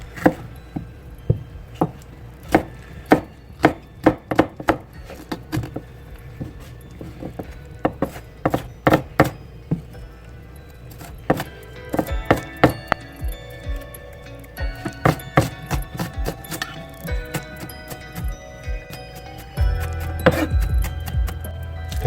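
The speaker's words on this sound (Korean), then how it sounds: "모든 야채는 다져줄 거예요" A knife minces red chili, cheongyang chili, green onion, onion and bell pepper on a cutting board for shrimp kkanpunggi, giving many quick, irregular close-up taps that speed into dense bursts.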